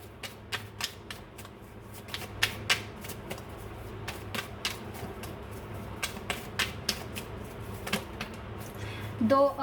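Tarot cards being shuffled, with repeated crisp riffling bursts at an irregular rhythm close by, quiet room background, and a faint voice near the end.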